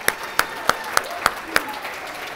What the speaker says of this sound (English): Everyone, big hand of applause for Joyce.